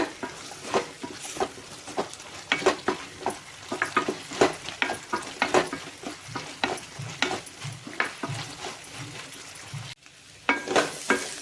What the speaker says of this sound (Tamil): இப்போ சுண்டல் வந்து நல்லா ஒரு ரெண்டு நிமிஷத்துக்கு நல்லா எண்ணெயிலே வணக்கிக்கோங்க